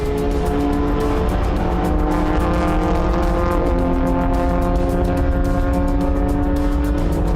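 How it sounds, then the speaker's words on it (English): Historic racing Porsche and Alfa Romeo cars accelerate hard on the Phakisa circuit. A loud, steady engine roar rises and holds for seven seconds with rough mechanical pulsing, close and dominant throughout. "The little Alpha is not going to give way to the Porsche, and he puts the power down"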